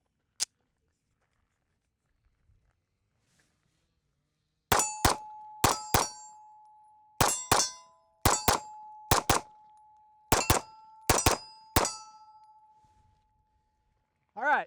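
Compact concealed-carry handgun fired at steel targets: a quick string of sharp, loud shots, each followed by a ringing metallic clang, in rapid bursts with brief pauses, after a quiet start.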